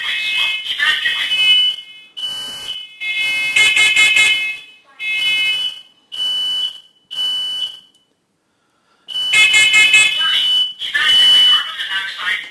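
Smoke and carbon monoxide alarm under test, loud repeating electronic beeps in bursts with gaps and a brief silence, alternating with a recorded voice warning spoken over the alarm.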